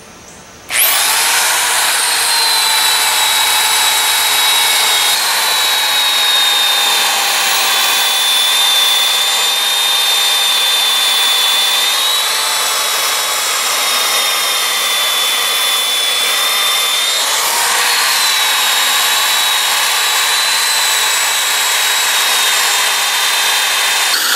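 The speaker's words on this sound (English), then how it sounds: "We're going to scrape off, again, most of the letters. Hopefully this will take off a lot of the paint that's on top of it, as well as a lot of the rust" Steady, loud whining of a power tool scraping paint and rust off a cast iron yard limit sign, running continuously with a slight pitch dip partway through and no talking.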